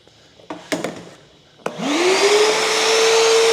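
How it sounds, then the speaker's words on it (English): A big shop vac starts up with a rising whine and then runs steadily and loudly, following a few sharp clicks and knocks as it is switched on. "now we have this big shop vac"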